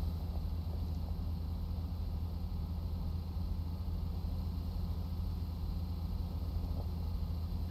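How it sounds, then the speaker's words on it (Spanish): A Peterbilt truck with a Caterpillar engine in American Truck Simulator runs with a steady, low droning rumble that stays constant throughout, moderately loud and with no talk over it. "Aquí vamos a ver este Caterpillar en acción."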